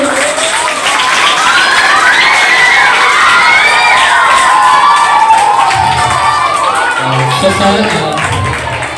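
A school debate competition audience claps, cheers and shouts for a student speaker, a loud sustained crowd roar with whoops that fades slightly near the end.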